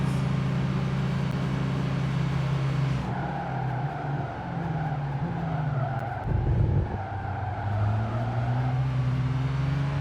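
Race car engines roar steadily in Gran Turismo 5, a racing video game, with tires squealing and a sustained skidding howl as one car overtakes another, loud and continuous throughout.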